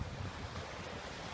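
Wind rushes past a sailboat out on the water, a brief, steady broadband roar buffeting the microphone, with wave wash blended underneath and no voices.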